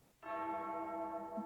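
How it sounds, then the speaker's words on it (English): A church bell in a building rings out in one sustained struck tone that begins abruptly and hums on evenly, moderately distant and alone, with no talking over it. "That's where the bell's ringing."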